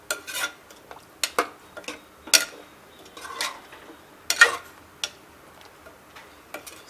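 A curry mixture with added water being stirred in a pressure-cooker pot, heard as a series of distinct spoon knocks and scrapes against the metal, irregular and close.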